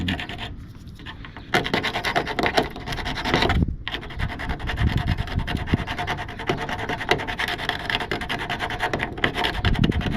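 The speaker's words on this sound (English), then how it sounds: "I'm trying to concentrate while I'm scratching here." Car paint is scratched by hand to fake a patina, giving a close, raspy rubbing and scraping in rough, uneven strokes. A short pause breaks the work, with no talk over it.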